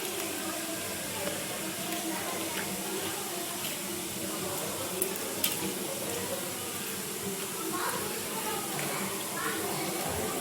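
Food frying in a pan with turmeric and a little salt, a steady close sizzle and crackle running throughout with soft scattered pops, no voice over it.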